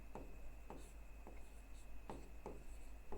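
Chalk writing on a board in a quiet room, a handful of short separate strokes and taps over a steady low hum, faint and close.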